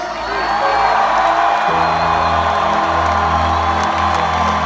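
A packed arena crowd at a hip-hop concert at The Forum roars continuously, with loud whoops and cheers blending into a sustained wall of noise while a low musical drone plays underneath.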